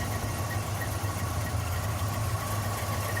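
A RamJet fuel-injected engine with a Powermaster chrome alternator idles steadily in a 1957 Chevrolet Bel Air with a 4-speed overdrive, giving a continuous low, even rumble close by with no voices.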